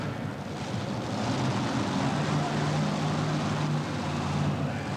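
A tractor pull sled puller powered by five Chevy-based engines launches down the track, its engines a loud, sustained, dense roar that holds steady throughout.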